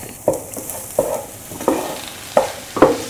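Scrambled eggs stirred in a frying pan for a potato and coconut milk stir fry, with five or six sharp scraping stirs at a steady, uneven rhythm over a soft background sizzle, close and fairly loud.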